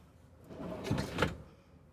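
A large full pull-out drawer in a 2023 Winnebago Navion 24J motorhome slides open with a short rumbling glide and a soft thud near the end, brief and close by.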